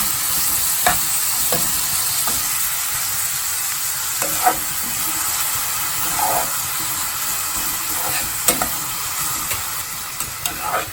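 Egg masala ingredients sauté in a hot pan with a continuous sizzle, while a spatula stirs and scrapes at intervals, close and steady throughout.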